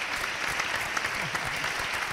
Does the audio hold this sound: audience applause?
yes